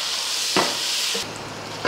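Garlic paste and chopped tomatoes fry in a pan with a loud, steady hiss and sizzle, broken by a few brief spatters and clatters. The sizzle drops quieter partway through.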